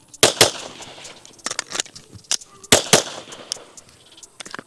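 Several sharp Glock 17 pistol shots crack out during a timed shooting run, loud and close, with a quick pair, a scatter of fainter reports, then another tight pair.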